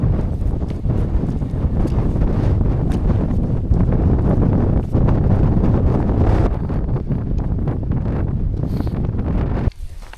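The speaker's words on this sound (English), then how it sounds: "It's windy!" Strong wind buffets the microphone beside the Derwent River in England's Lake District, a loud, continuous roar with gusty surges for about ten seconds.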